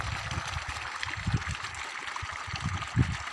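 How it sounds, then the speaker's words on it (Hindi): Water runs continuously from a borewell pipe on a farm, a steady near rushing flow with gurgling bursts, heard alone without talk. "पानी कैसा चलता है पानी कंटिन्यू चलता है पानी अच्छा है"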